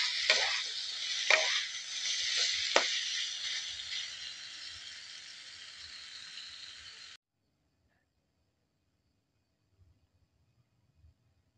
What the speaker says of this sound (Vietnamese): Bây giờ mình tiến hành mình chiên cơm nha các bạn.